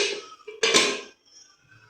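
A metal lid is set onto a cooking pot with a short clatter and a brighter clang, then a faint rattle as it settles, alone and close.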